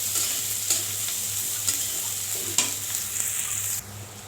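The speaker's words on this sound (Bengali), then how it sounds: "প্রথমে পেঁয়াজ মরিচ দিয়ে দিলাম, পেঁয়াজ মরিচ রসুন। এখন এটা ভাজা ভাজা করব।" Chopped onion, green chili and garlic fry in a pan for a chicken curry, a soft steady sizzle broken by a few scraping stirs of a spatula.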